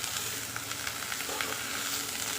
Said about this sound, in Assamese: মই ধুনীয়াকৈ লৰাই আছোঁ লাহে লাহে